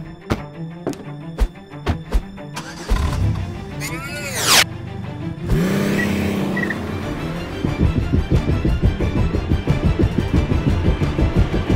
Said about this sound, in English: You can probably hear the cars starting up over there.